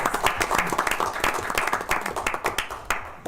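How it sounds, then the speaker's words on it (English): Applause at a borough council meeting, a small group clapping with quick, distinct claps close by, steady throughout and tapering slightly at the end. "Yes, round of applause."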